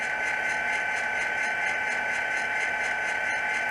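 A Genesis SD45-series model diesel locomotive plays its engine sound through the stock speaker, a steady, droning electronic hum with a tinny tonal edge, constant and unchanging, with no voices over it.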